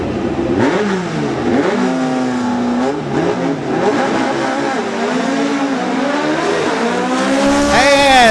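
Pro Stock drag racing cars launch in qualifying, their engines screaming and climbing through repeated rising gear sweeps at close range, with a track announcer talking over the steady roar.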